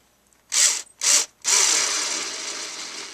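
A Genesis 7.2 volt lithium-ion two-speed screwdriver set to 600 RPM whirs in two short bursts, then runs continuously, loud and close, with no talking.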